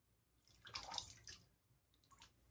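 A wet shaving brush squeezed out by hand, giving a quiet, close splash and trickle of water lasting under a second, followed by a fainter dribble.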